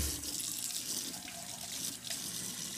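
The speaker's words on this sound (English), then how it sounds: "You'll want to make sure that the water runs at the same temp." Tap water runs steadily into a sink for washing wool, a continuous close hiss of flowing water with no talking.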